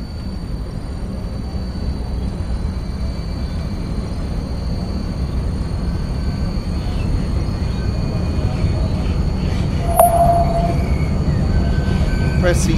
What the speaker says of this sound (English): Press W to increase the traction brake lever and to accelerate the tram.